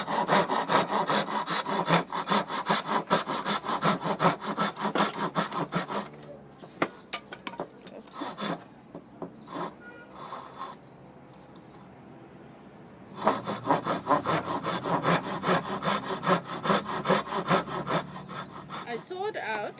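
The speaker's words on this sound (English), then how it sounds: "I sawed out the pieces that's going to fit in" Handsaw cutting wooden pieces for a mid-century modern dowel plant stand, close rhythmic strokes in two long runs separated by a quieter stretch of scattered handling knocks.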